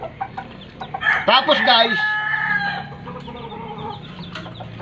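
Chickens on a game farm cluck steadily close by, with one loud rooster crow rising out of the flock partway through while someone speaks briefly over them.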